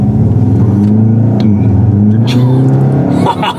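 A Skoda Octavia RS launches hard under launch control, its engine roaring loud and close with a deep rising drone from inside the cabin and a brief cut near the end.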